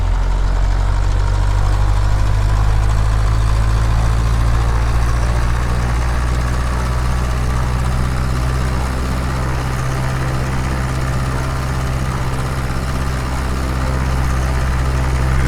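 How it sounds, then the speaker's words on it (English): A Cessna 152 engine in Microsoft Flight Simulator holds a steady run-up at 2000 RPM, a loud, continuous low propeller drone and engine rumble close by, unbroken and nearly constant throughout. "we're gonna do our run-up check real quick over here so we can listen to all the sounds. Going to 2000 RPM."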